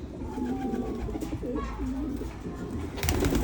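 Pigeons on a rooftop give repeated soft, throaty coos in a loose rhythm, fairly close, with a brief burst of other noise near the end.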